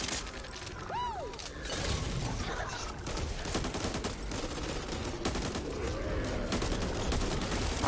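Rapid sustained gunfire from a player's weapon in the co-op zombie shooter Back 4 Blood, a dense fusillade of shots running nearly continuously under chaotic game noise, with no speech.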